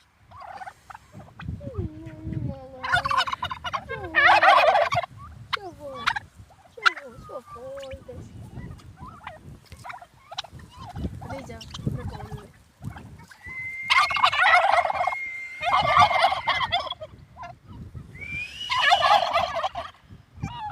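A grazing flock of turkeys gobbles in loud, rapid bursts outdoors, several rounds of rattling calls close by, with softer clucks and rustling between them.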